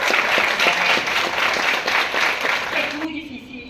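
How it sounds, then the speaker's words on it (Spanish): Audience applause at a panel event on discrimination and violence against Afro-descendant and Indigenous women, a steady burst of many hands clapping close by that stops abruptly near the end. "Un aplauso,"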